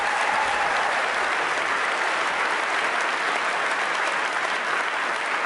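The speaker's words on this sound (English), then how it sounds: "Round of applause." Conference audience applauding at a CRM 2013 global launch event in Barcelona, a dense, steady wash of clapping from a large crowd that holds evenly for several seconds with no voices over it.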